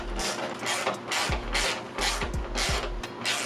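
A hand ratchet clicks in quick repeated bursts while loosening the 8mm top headlight screws on a BMW E46, close and dry, with brief pauses between strokes.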